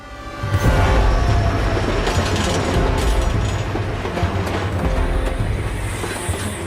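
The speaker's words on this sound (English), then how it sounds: "On Kitchener's desert train had come machine guns and thousands of rounds of ammunition" Kitchener's military desert train on the Sudan campaign runs steadily and loudly, a continuous low rumble with rhythmic rail clatter that swells in after a quiet start and carries on without voices.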